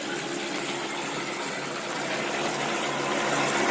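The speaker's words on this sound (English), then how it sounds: "We just got a slow idle on it." Drive system of a model tractor trailer running at slow idle, a steady, even electric hum and whir that holds for several seconds with no talk over it.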